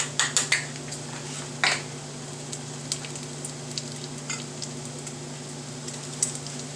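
A spoon stirs a ham loaf mixture in a pan, knocking and clinking against the metal in a few sharp early taps and one later clunk, over a low, steady background hum with light scraping.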